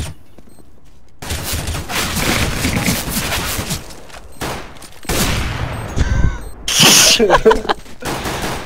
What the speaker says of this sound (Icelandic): Þrjú skott.